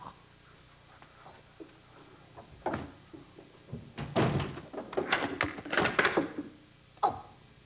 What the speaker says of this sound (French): Mais il a vraiment verrouillé la porte.